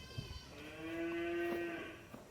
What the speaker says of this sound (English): We also have cows mooing.